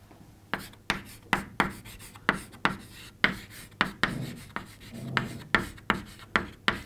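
Rhythmic writing strokes, a pen or marker scratching out a mathematics statement, with a regular series of sharp scraping strokes about two per second, close and steady.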